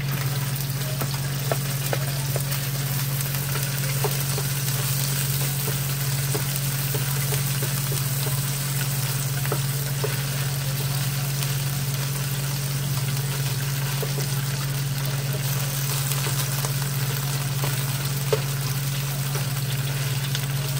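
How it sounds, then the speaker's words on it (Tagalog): Garlic frying in a pan while cooking chicken with broccoli, a continuous close crackling sizzle with small scattered pops over a steady low hum, with no talking throughout. "Papulahin lang natin ng konti yung ating bawang."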